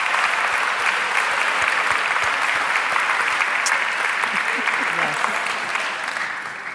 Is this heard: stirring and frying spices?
no